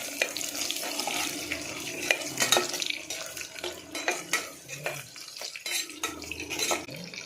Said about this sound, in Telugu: అందులో కట్ చేసుకున్న ఆనియన్ వేసి కలపాలి.